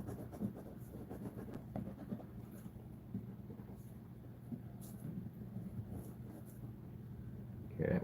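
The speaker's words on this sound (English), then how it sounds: "I gotta draw this out real quick." Quick pen or pencil strokes sketching a design on paper, a soft steady scratching close by under a low background rumble, with a brief louder bump at the end.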